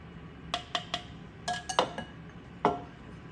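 Dry flour, sugar and baking powder being mixed in a bowl, heard as a handful of sharp clinks and taps of a utensil against the bowl, irregular and close, with no talking.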